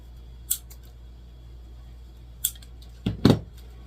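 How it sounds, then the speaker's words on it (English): Scissors snip small pieces off a Dollar Tree lantern swag, giving a few sharp, close cuts spaced apart and ending in a quick double snip, with no talking. "Then you come in and cut these little pieces off."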